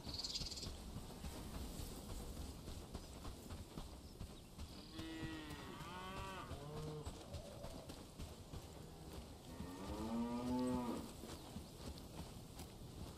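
A cow moos in the video game Bellwright, two drawn-out moos at moderate distance over a busy outdoor ambience of birds and cooing pigeons, with no talking.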